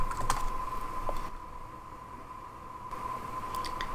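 Keystrokes on a computer keyboard as a command is typed, several quick clicks near the start and end with a quiet pause between, over a faint steady hum.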